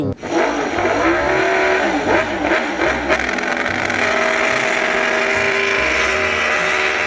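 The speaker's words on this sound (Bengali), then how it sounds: "Wow amazing lighting system and sound system, premium quality scooty." A toy scooter's built-in sound system plays a loud electronic engine-revving effect, a bright, sustained whine with pitch sweeps that settles into a steady high drone.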